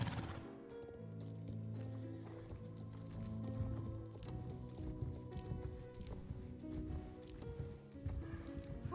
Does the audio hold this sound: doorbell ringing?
no